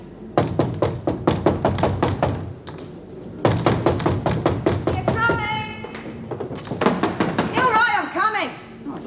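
A fist pounds hard and fast on a door in rapid steady volleys, loud and close, pausing briefly before starting again, while voices shout and talk over the banging.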